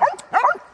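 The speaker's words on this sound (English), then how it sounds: "So our smallest dog is trying to play with our biggest one." A small dog playing with a much bigger dog lets out two quick, close, yappy barks, high and sharp with a slight whiny edge, and no one speaks.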